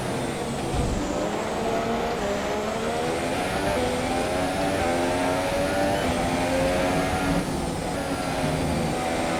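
An F1 race car engine in the game F1 2017 roars steadily and loudly, its pitch rising and shifting as gears change, with no one talking.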